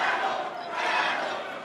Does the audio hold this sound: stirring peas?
no